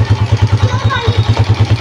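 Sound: Honda 125 motorcycle cold start

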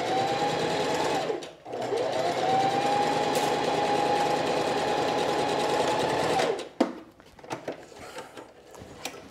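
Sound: sewing machine stitching side seam of sheath dress

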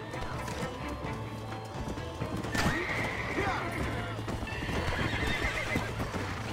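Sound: horse galloping and neighing in the video game Red Dead Redemption

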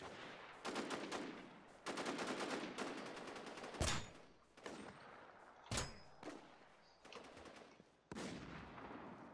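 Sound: Mauser rifle gunfire in the video game Infestation The New Z

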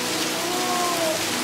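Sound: heavy rain falling

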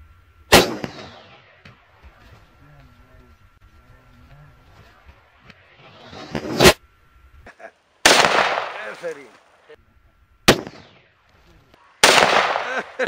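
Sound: AK-47 7.62 caliber rifle firing

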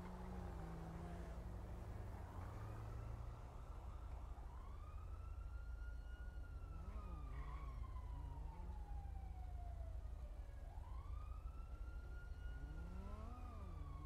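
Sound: sirens in video game

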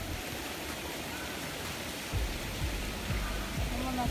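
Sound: ocean waves on the beach

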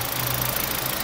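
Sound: Kia Ceed 1.4 16-valve engine idling quietly

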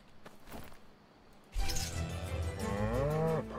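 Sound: cow mooing

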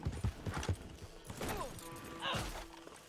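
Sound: horse hooves as a rider dismounts in Red Dead Redemption 2 video game

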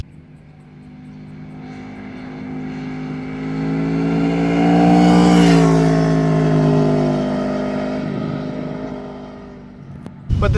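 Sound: Aprilia Tuono V4 1100 RR motorcycle engine revving

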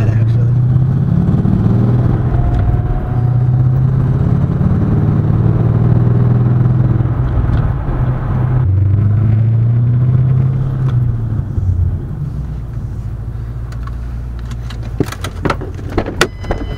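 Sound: turbocharged Mustang GT engine revving and driving

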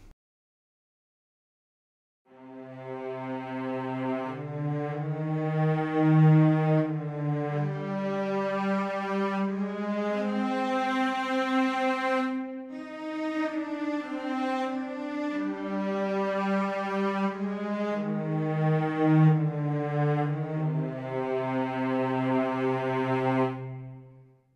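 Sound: cello section from BBC Orchestra Discover sample library

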